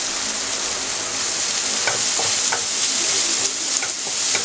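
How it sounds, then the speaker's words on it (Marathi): Finely chopped onion with a little salt sautéing in a pan, a bright continuous sizzle with several light spoon strokes scraping through, no talking. "कांदा चांगला ब्राऊन होईपर्यंत परतून घेऊया।"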